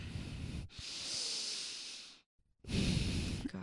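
A man imitates heavy, rasping breathing: a long hissing exhale, a brief pause, then another loud breath, close and alone.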